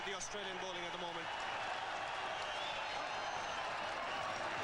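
A cricket crowd at Sharjah roars and cheers in a big stadium, a steady wash of massed noise and applause, with a commentator's voice briefly heard at the start.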